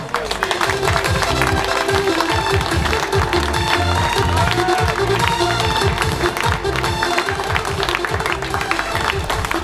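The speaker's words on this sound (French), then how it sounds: "On peut les applaudir." An outdoor crowd applauds prize winners at a firefighter triathlon championship awards ceremony, with dense continuous clapping and cheering, loud and sustained, and music or voices mixed underneath.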